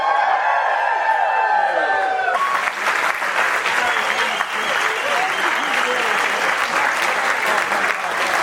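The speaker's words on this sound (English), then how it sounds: "let's keep that applause going for both of our maids of honors, Leanne and Liliana" Wedding guests break into loud applause after a toast to the bride and groom, following a brief musical tone; dense sustained clapping with some cheering and whoops fills the reception hall for several seconds.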